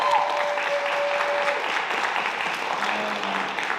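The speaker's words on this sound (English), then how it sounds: "I also want you guys to give a very hearty round of applause for Dean Taylor" An audience gives a steady, sustained round of applause for a dean at a school Law Day event, dense clapping continuing evenly throughout without pause.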